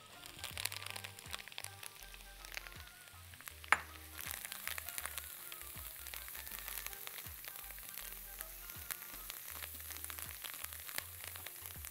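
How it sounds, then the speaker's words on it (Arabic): Garlic and parsley get a quick sauté in a pan for a steak cheese sauce, giving a soft, steady sizzle with faint crackles and a few stirring clicks, quiet and close. "تشويحه سريعه جدا للتوم ومعاه"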